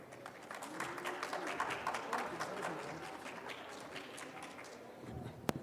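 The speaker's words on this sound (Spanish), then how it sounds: "a lo cual les pido un fuerte aplauso" An audience at a medical lecture on advanced airway management and initial mechanical ventilation applauds to welcome the speakers. The clapping is soft and distant, a steady patter under room murmur.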